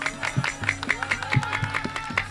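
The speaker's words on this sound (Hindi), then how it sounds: "हम अपनी पार्टी के साथ आप लोगों के लिए तालियां बजाएं।" An audience at an urs celebration claps in a quick, regular rhythm over a steady musical tone and low drum-like thumps, the claps close and fairly loud throughout.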